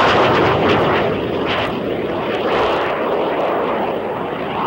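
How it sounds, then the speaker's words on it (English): US Navy F-14 jet fighters roar loudly and steadily during takeoff off the Virginia coast, a dense broadband engine blast that dominates throughout. "Accelerating rapidly down the runway, we start our takeoff and head for the practice area"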